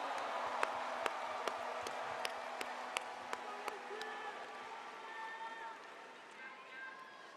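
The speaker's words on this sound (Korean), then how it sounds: "다시 한번 큰 박수 부탁드립니다" Sustained applause from a large crowd of delegates at a Korean Democratic Party convention after a leader's acceptance speech, a dense steady roar with sharp claps that gradually thins and fades toward the end, with tonal sounds emerging underneath.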